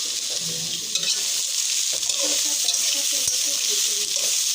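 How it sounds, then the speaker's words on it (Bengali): Soybean chunks fry lightly in a pan with a steady, close sizzle and crackle, while a utensil stirs and scrapes through them in irregular bursts. "হালকা একটু ভাজা করে নিচ্ছেন, বেশি বাড়বেন না, তাহলে সেগুলো কিন্তু শক্ত হয়ে যাবে।"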